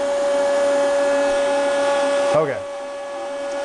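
A Creality Ender 2 converted into a CNC machine mills foam board with a steady, loud motor whine and hum. It stops abruptly partway through, leaving a quieter background, and a voice speaks briefly afterward.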